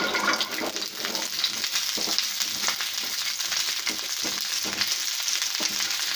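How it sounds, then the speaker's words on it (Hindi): Diced onions hit about a teaspoon of hot oil and sizzle steadily, a close, bright crackling hiss with small pops that carries on evenly throughout. "लगभग 1 टीस्पून तेल लेंगे और उसके गर्म होने पे हम उसमें जो हमने डाइस्ड प्याज थे उसे डालेंगे।"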